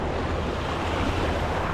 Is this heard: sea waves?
yes